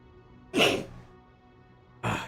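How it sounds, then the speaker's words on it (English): Two short, sharp sneezes from one person, close to the mic, separated by about a second and a half of near silence. "Oh, I gotta sneeze for a second."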